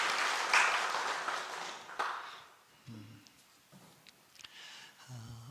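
Applause from a church congregation for its Sunday school children, a soft, fairly distant patter of clapping that fades over a few seconds, with faint background noises after it.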